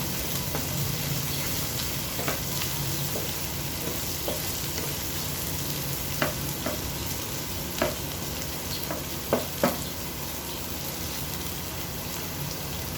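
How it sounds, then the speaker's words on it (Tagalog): Onions sautéing in oil in a pan for pork adobo, an even hissing sizzle up close with scattered spatula taps and a few louder clinks. "hintayin lang natin na maluto yung sibuyas para lumabas talaga yung aroma niya"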